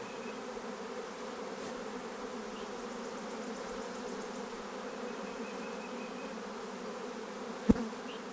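Honey bees buzzing around an open single-brood hive on a warm day, a steady, dense droning hum close by, with one sharp knock near the end.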